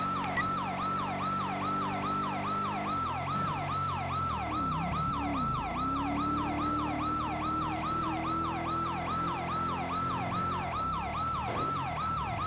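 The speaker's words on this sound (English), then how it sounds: "Come on, people, listen to the siren." Highway patrol Dodge Charger siren in a roleplay video game, a loud rapid wailing yelp that cycles evenly and continuously over a low engine hum, with no talking.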